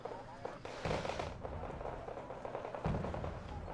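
Mortar fire in a military strategy video game, a string of cracking, thumping blasts at varied distances over a steady battle backdrop, with a commentator's voice faintly underneath.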